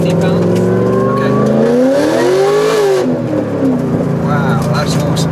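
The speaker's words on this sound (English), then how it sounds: "That was a wheel spin." An all-carbon widebody custom-built Corvette spins its wheels, a loud, close engine roaring and rising in pitch under hard revving, then easing as the tires break loose.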